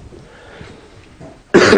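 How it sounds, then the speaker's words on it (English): A congested preacher coughs once, a short, loud burst near the end after faint throat noises and breathing. "You'll have to excuse my coughs."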